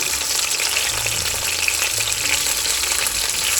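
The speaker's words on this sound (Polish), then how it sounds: "Teraz tak samo smażymy z drugiej strony." A loud, steady sizzle of fish fillets frying in a hot pan, crackling continuously with no voices.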